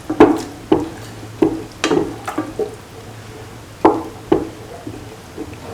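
A spoon stirs and mixes lemon chickpea rice in a pot, giving close, sharp knocks and scrapes in an irregular rhythm with short gaps, over a faint background sizzle.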